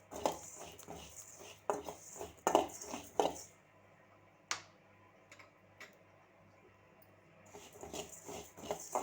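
Cumin seeds crackle and pop while dry roasting in a pan for mango pickle, with scattered small ticking snaps in quick bursts, then a quieter stretch of occasional pops, close and faint.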